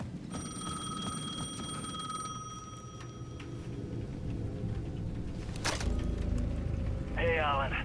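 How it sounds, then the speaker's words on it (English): A payphone at the edge of a plaza in Alan Wake 2 rings with a bright, trilling electronic tone for a few seconds, then stops; a sharp clack and a brief voice follow over background rumble. "The payphone at the edge of the plaza was ringing again."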